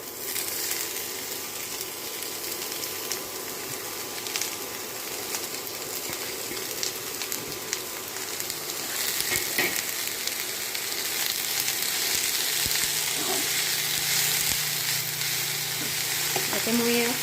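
Vegetables sizzle steadily in a hot pan throughout, a dense continuous frying hiss that swells slightly louder partway through, with faint stirring clinks near the end.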